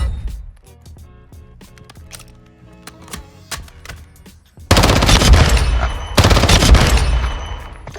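Vel 46 submachine gun in Call of Duty DMZ, heard as scattered single shots and clicks at first, then two long, loud, close bursts of rapid automatic fire.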